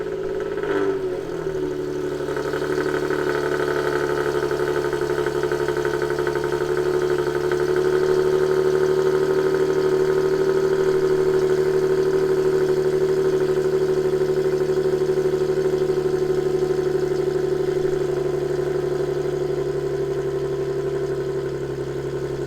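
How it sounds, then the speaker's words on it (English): An Infiniti G37 engine, started cold, catches with a brief rev then settles into a steady, even idle hum that holds for about twenty seconds, close and alone. "the last cold start that we need to do to complete basically all our cars is the"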